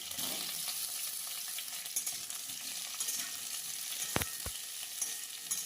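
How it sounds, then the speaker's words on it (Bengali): Potatoes fry in hot mustard oil with whole garam masala and bay leaves, giving a steady close crackling sizzle with a few sharp clinks of a utensil against the pan. "তার মধ্যে আলুগুলোকে দিয়ে দিয়েছি ভেজে নেওয়ার জন্য।"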